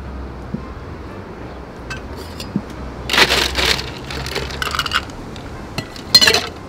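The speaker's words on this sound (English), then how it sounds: "And we're going to add ice." Ice cubes clink and rattle into a glass during cocktail making, in a few bright, close bursts over a quiet room with no talking.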